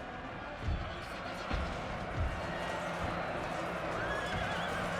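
Cavalry horses neighing and hooves pounding in the Total War: Napoleon battle game, a dense din of galloping and whinnies with a few heavy thumps over continuous battle noise.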